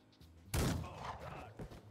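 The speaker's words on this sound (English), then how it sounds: "Grover, go over there and shoot him." Gunshots in the video game Empire of Sin, a sudden loud blast that rings out and fades over about a second, with a softer thud following.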